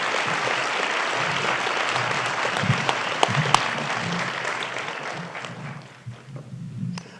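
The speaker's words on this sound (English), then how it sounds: "Can we give her one more round of applause, please?" Graduation ceremony audience applauding, a dense, loud wash of clapping that carries steadily and then thins slightly toward the end, with no speech over it.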